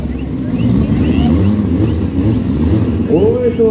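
Loud, close roar of an Opala Carbon 4x4 with a blower and nitro engine at a test pass, a dense throaty drone with rising revs toward the end, mixed with crowd or announcer noise.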